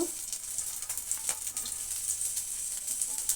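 Chillies fry with curry leaves and garlic in a pan, giving a steady, crackling sizzle with small pops throughout, fairly faint and with no talking.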